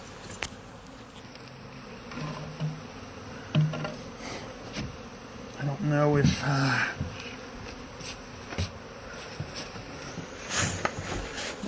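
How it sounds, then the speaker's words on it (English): Swarming honeybees buzz close around a beekeeper, a dense steady hum with individual bees zipping past the microphone, while someone speaks briefly. "I'm covered in bees."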